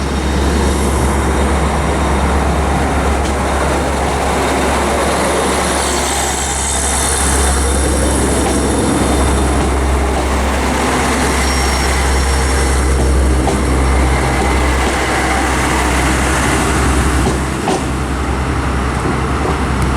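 A train passes through Belfast Great Victoria Street station, a loud, steady rumble of engine and wheels for the whole stretch, with low drone and a sharp clank near the end.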